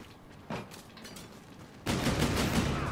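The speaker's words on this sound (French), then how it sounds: "Lui il tire en l'air." Gunfire in a shooter video game as a player fires into the air, rattling automatic bursts that stop and then return louder and more continuous near the end.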